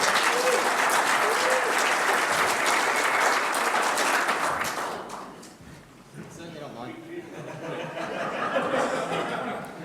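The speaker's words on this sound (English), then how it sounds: "So just a round of applause just for that alone." Audience applause at an electric vehicle expo talk, honoring a chemist turned battery engineer: a loud, dense burst of clapping for about five seconds that fades into scattered claps, soft chuckles and talking.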